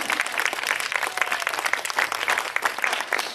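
An audience at a Brahma Kumaris gathering in Delhi claps together, a dense, even burst of applause lasting a few seconds.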